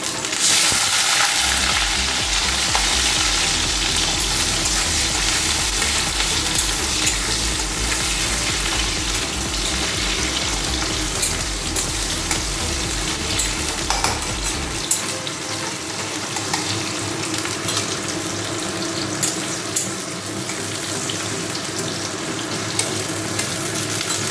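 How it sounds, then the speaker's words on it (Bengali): Chopped onions fry in hot mustard oil with a loud, continuous close-up sizzle that holds steady throughout, while a low background hum drops away partway through. "সর্ষের তেলটা গরম হয়ে গেছে এবার এর মধ্যে দিয়ে দেব পেঁয়াজ কুচি"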